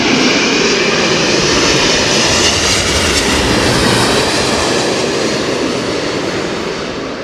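Lufthansa airliner at London Heathrow Airport, a loud close engine roar that fills the whole clip and eases off slightly at the end, with no voices over it.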